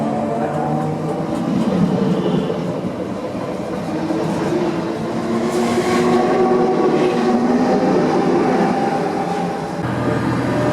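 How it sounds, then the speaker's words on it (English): A double-deck suburban train rumbles steadily with a loud, droning motor tone and rail noise, rising slightly in pitch partway through, no voices. "these have got some really creepy and epic sounding double-deck trains"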